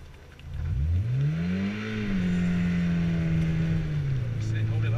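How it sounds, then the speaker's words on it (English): A car engine revs up and holds as the clutch is released during a stunt driving lesson, its pitch rising quickly, then settling into a steady drone before dipping lower near the end, with faint talk around it. "Build up the revs and then let go of the clutch."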